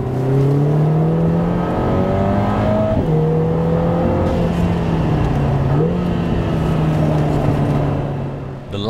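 A Lotus Emira sports car drives hard around the Hethel test track, its engine note loud and close as it climbs steadily through the revs, dips at a gear change, then pulls up again and holds at high speed.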